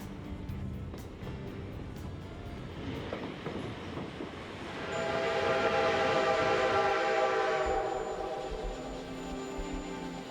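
White Pass & Yukon Route train crossing high above Glacier Gorge on the Yukon line, a steady rumbling roll of wheels and cars that swells louder midway, with a faint high whistle tone, no talk.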